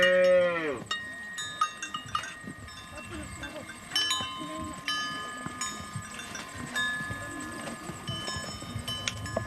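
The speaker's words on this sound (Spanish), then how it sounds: "Su ganado también está ya en el corral." Cattle of the Mursi people lowing repeatedly in a corral at nightfall, a loud nearby moo opening over steady herd murmur, with occasional hoof clatter and faint bell clinks.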